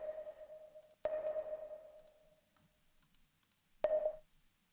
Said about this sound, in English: it looks like I added some distortion to the submarine parts